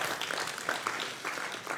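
Brief burst of dense audience applause at a Texas attorney general debate event, a steady wash of many hands clapping at moderate volume with no one talking over it.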